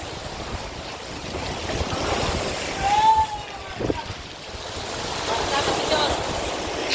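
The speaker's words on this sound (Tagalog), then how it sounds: "Lakas ng alon." Strong surf rolls in at Butas Butas Beach in Mauban, Quezon, a continuous roaring wash with swelling surges, buffeted by wind noise against the microphone, while a voice briefly calls out partway through.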